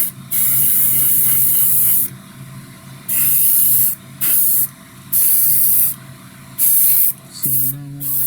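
A spray gun lays 2K clear coat onto a 1/25 MPC Torque Trike model in a series of short hissing bursts, each a second or so long, separated by brief pauses, close and loud.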